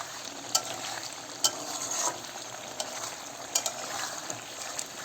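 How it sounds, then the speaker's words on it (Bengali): Curry seasoned with turmeric powder fries in a pan under steady sizzling, with a spoon scraping and tapping against the pan in scattered sharp clicks as it is stirred. "আবার একটু নাড়াচাড়া করি হলুদের গুঁড়ো দেওয়ার পরে নাড়াচাড়া করছি"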